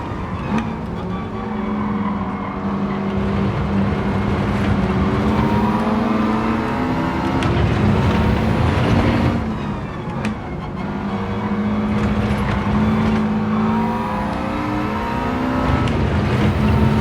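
Race car engine in Gran Turismo 7 accelerating hard out of a corner, a continuous loud roar with rising and falling revs through gear changes across the whole stretch, no talking.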